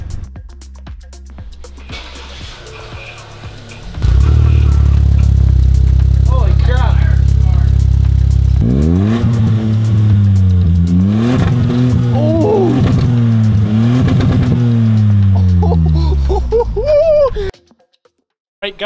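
Ford Bronco Sport 1.5-liter engine, straight-piped with the muffler removed, revving up from a low rumble into loud, raspy rising and falling blips. Excited voices talk over it.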